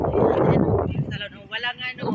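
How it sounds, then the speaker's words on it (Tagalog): Wind buffets a microphone with low, rumbling gusts, strongest at the start, while a person talks over it. "mahangin dito, malamig na"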